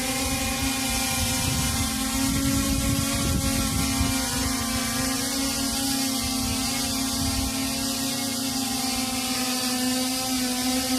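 A PX4Flow drone hovering in position hold during a night flight, a steady high whine from its propellers with a strong, unchanging hum underneath and wind rumble at the mic, sustained and close, with no voices.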